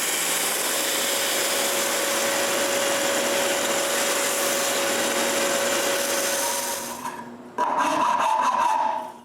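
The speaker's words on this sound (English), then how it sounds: "The last thing to do is to sand around those bowls." Sanding around wooden candy bowls in a woodworking shop: a loud, steady rasping drone runs for about seven seconds, cuts out briefly, then returns for a final short burst.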